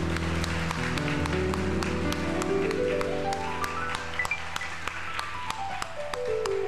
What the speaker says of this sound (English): Let's offer another round of applause for Reverend Hannah